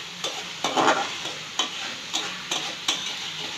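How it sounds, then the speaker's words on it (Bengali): Tomatoes sautéed and stirred in a pan, a low sizzle broken by regular spatula scrapes and taps, roughly one every half second, close and clear. "টমেটোটা কষিয়ে নেব, একটু খরক গলে যাবে একদম এরকম"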